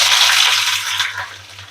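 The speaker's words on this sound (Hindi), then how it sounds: "तेल गर्म हो गया, हम इसमें प्याज डाल देते हैं।" Onion hits hot oil in a pan, bursting into a loud, close sizzle that hisses steadily for a couple of seconds and then eases slightly.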